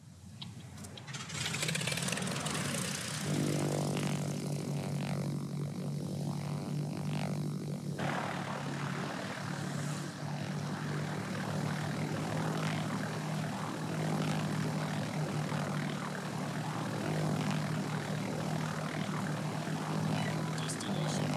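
Fighter aircraft squadron in the naval combat game World of Warships, a steady droning propeller-engine hum holding loud and continuous throughout, with a low tonal whine layered over dense background game noise.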